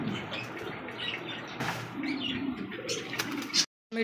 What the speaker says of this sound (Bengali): ডল পুতুল বুট ঠোঁটের চমৎকার একটা জোড়া কবুতর, আপনার জার্মান পলিশ